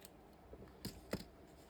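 Scissors snip through paper while making a body-shaped album, two or three crisp, close cuts spaced about a third of a second apart against a quiet background.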